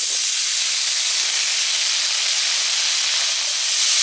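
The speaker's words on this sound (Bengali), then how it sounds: "কড়াইতে যেইটুকু তেল রয়েছে ওই তেলে আমি বাকি আলু ছেড়ে দিচ্ছি।" Potatoes dropped into the leftover oil in a hot wok give a steady, loud, broadband sizzle and hiss with no talking.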